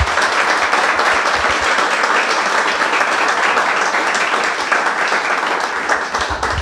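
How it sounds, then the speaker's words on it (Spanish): Congregation applauding in a church during a sermon, a sustained dense wash of many hands clapping at an even loudness throughout. "Dale ese aplauso que le quieres dar."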